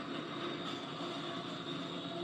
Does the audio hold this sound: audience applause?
no